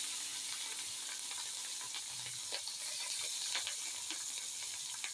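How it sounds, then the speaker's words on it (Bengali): Fish frying in a pan at home, a steady close sizzle with scattered crackling pops throughout, no voices. "মাছটা ভাজা হোক, তারপরে মিষ্টি কুমড়া একটু ভাজিয়ে নেব।"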